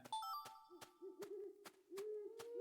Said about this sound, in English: I hear the owls.